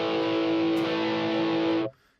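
A sustained tone pushed through a distortion effect in the Myroneman plugin holds thick and buzzy for nearly two seconds, then cuts off abruptly into silence.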